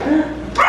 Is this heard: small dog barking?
yes